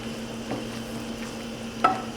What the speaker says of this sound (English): Let's mix everything up a little bit here